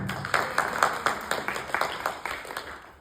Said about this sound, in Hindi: तो बाबा जी के लिए बहुत सारी तालियां